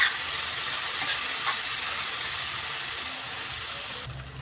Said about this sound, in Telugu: ఇప్పుడు ఇవన్నిటిని బాగా మధ్య వరకు వేయించుకోవాలి